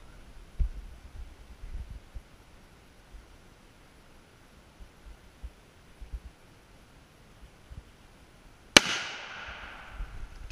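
Gunshot at a shooting range: one sharp, loud bang near the end with a brief ringing tail, following a long stretch of quiet outdoor background.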